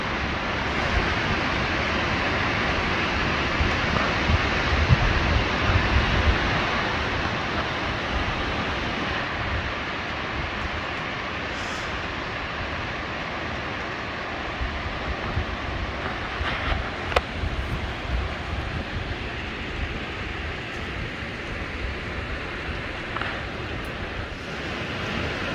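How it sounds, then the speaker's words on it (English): Steady broadband rush of waterfalls pouring down around a sheltered cove anchorage ringed by snow-covered mountains, a constant distant roar with no talking. "There's waterfalls all around us."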